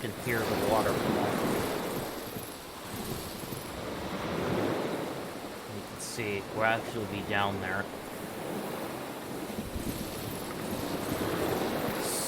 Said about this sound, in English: You actually can hear the waterfall.